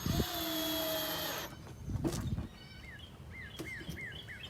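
Power drill whirs steadily for over a second as it drives into bird feeder wood, then stops, followed by a few clunks and a run of repeated bird chirps in the background.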